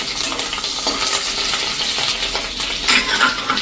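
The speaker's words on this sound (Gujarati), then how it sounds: "અને હવે એમાં આપણે એને ક્રકલ થવા દઈશું." Green chillies and ginger crackle and sizzle in hot oil in a home kitchen, a steady close frying hiss with scattered sharp pops and light clinks throughout.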